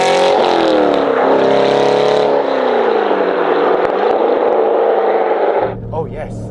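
An Aston Martin Vantage engine pulls hard up through the gears, a loud, sustained roar with its pitch climbing and dropping at each shift, heard from close by before it fades off near the end.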